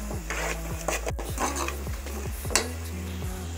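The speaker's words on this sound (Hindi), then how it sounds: "2 मिनट तक मसाले को इसमें भूनेंगे।" Spice masala with salt being stir-fried in a pan for a potato and egg curry: scraping, rubbing strokes of a spoon against the pan with a few sharp knocks, close up and without speech.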